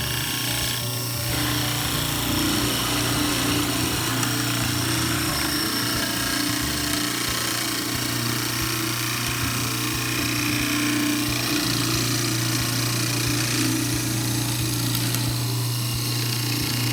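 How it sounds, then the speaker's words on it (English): A loud, steady mechanical drone with a grinding, rasping edge runs continuously throughout as a Delta hollow chisel mortiser bores into wood, close by and without speech. "Now let's turn it on and try to drill this hole."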